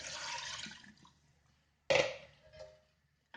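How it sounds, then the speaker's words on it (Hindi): Four cups of water pour into a pressure cooker holding mutton chops and well-roasted spices, with a steady splashing pour, a pause, then a second short close pour that trails off. "4 कप पानी डाल रही हूँ।"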